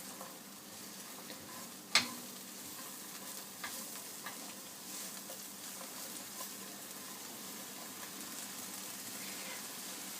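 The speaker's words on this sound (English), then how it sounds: "So 200 grams of the sliced negi, give that a stir." Sliced negi fry quietly in a pan with a soft, even sizzle, opening with one sharp utensil knock, followed by a few faint scraping stirs.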